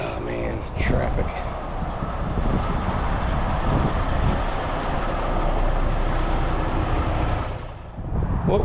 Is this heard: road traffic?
yes